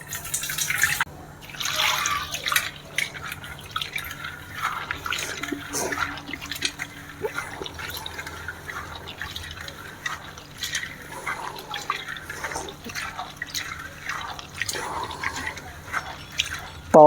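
Moong and chana dal are washed in water, with irregular close splashes, drips and swishing of grains that run throughout, alongside faint background sounds.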